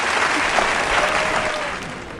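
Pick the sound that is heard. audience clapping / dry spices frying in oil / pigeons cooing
audience clapping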